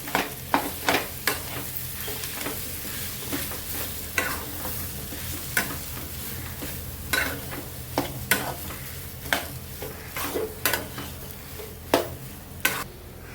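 Vegetables sizzling steadily in a frying pan while a spoon stirs and scrapes through them, giving irregular sharp knocks against the pan over a continuous close hiss.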